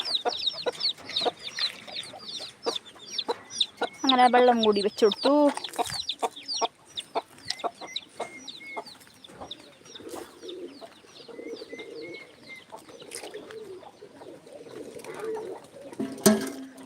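Chicks and chickens cluck and peep in a busy backyard flock kept with pigeons, the calls close and frequent throughout, with a person speaking over them at times.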